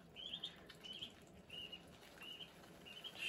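A duckling chirps indoors, a series of thin, high peeps repeating every half second or so, faint and close against a quiet room background.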